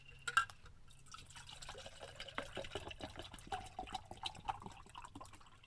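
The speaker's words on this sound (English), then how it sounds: "I do have some extra bottled water here that I can pour into my sippy cup" Bottled water poured into a sippy cup, heard as faint, close trickling and dripping with small splashes over a few seconds, with no voices.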